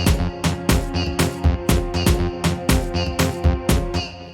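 Chanted vocal samples ride over a pounding beat, short repeated voice phrases looping in rhythm with loud drums and no talking.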